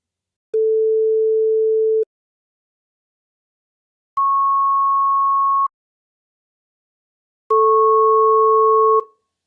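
Pure sine-wave tones starting at 440 Hz: one steady tone, a pause, a second higher tone, then both sounding together as a two-note interval, each lasting about a second and a half, clean and loud with silence between.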